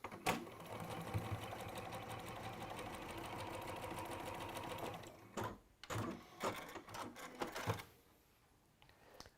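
A sewing machine stitching teal quilt half-square units, whirring in a fast steady run for about five seconds, then several short stop-start bursts before falling quiet; close but fairly soft.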